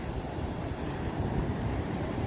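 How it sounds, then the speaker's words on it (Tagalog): Strong ocean surf at the Ko Olina lagoon on Oahu, Hawaii, roars steadily and broadband with wind buffeting the microphone, a continuous wash of breaking waves with no voices. "Ang lalakas ng alon."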